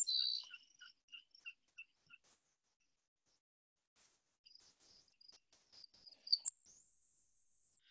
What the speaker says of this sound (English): the grasshopper sparrow.